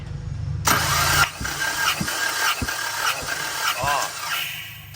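A Tata engine cranks on the starter during a cylinder four compression test, a loud sudden whirring crank with rhythmic chugging compression pulses over several seconds, close by in a workshop.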